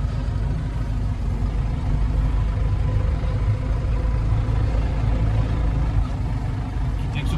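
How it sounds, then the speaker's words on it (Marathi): A Force Traveller van's engine runs with a steady, low, continuous rumble as the van reverses into a parking spot. The sound stays close and even throughout, with no clear speech over it. "रिवर्सने लावतो गाडी आपली."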